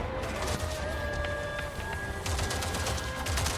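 Rapid, sustained automatic weapon fire in the video game Avatar Frontiers of Pandora, a dense, loud burst of gunshots with booming low end and in-game tones layered over it, no talk.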